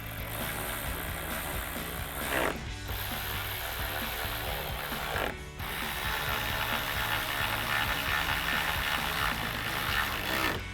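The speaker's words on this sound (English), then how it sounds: "Now we'll tighten them all down with our 10mm socket." A ratchet with a 10mm socket tightens bolts during Jeep Wrangler JL headlight installation, a continuous fast clicking close by, broken by two brief pauses, with no talk.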